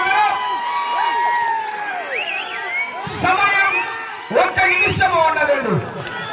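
A crowd at a bullock cart pulling contest in Khajipet, K Agraharam shouts, whoops and cheers loudly and close by. Bursts of cheering swell and rise over steady chatter from many voices.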